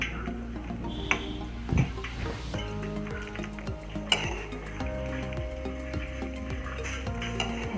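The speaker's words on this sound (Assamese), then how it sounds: "মই হাতা এখন লৰাই চাইছোঁ" A ladle stirs pasta boiling in water in a karahi, giving soft scrapes and occasional metallic clinks against the pan over a steady bubbling hum, with no talk.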